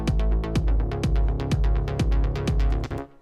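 An electronic track plays its top bass line over a steady four-on-the-floor kick. The tonal bass pulses and wobbles in time with the regular, punchy beats, and no one speaks.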